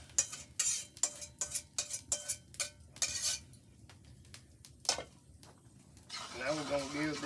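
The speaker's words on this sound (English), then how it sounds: "We're going to give this a good stir, and we just want to get it all blended up, get a good texture." A spoon clacks and scrapes against a bowl in quick, repeated strokes while wet ingredients are stirred into dry cornbread batter, then slows to a few soft taps before a voice speaks at the end.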